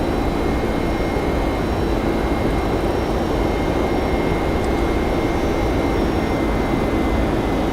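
Steady, loud jet-engine roar of an airplane climbing after takeoff in a flight simulator game, a continuous broadband rumble that holds constant throughout with no talking.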